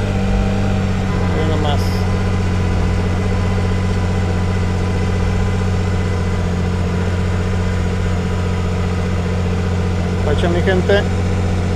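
A 2024 Can-Am off-road vehicle engine runs at a steady idle, a constant low drone holding throughout with a brief rise near the start, while someone talks over it.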